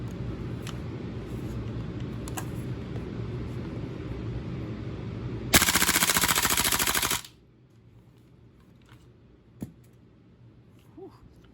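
Automatic gas blowback airsoft rifle running on propane fires one loud, dense full-auto burst of roughly a second and a half, standing out sharply over a steady background hum, with quiet handling afterward.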